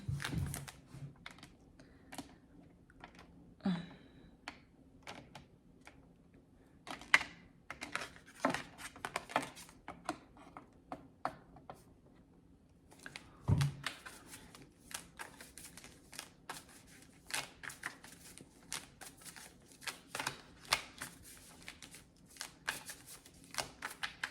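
Tarot cards are shuffled by hand nearby in repeated bursts of crisp riffling and slapping, with quiet pauses between bouts.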